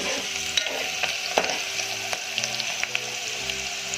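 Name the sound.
onions frying and being stirred in a pan for ridge gourd sabzi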